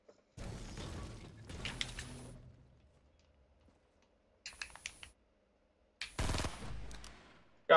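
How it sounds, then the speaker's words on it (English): Gunfire in Fortnite: Battle Royale, sounding as several bursts of rapid automatic shots separated by short pauses, close and loud, no talking. "you guys can stop shooting all the way up there"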